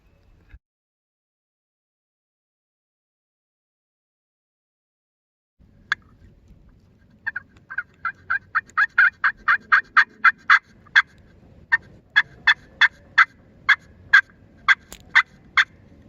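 Wild turkey calling during a hunt, a long run of sharp, rapid, evenly spaced clucking bursts that starts after several seconds of silence, fairly close and loud, with no talk.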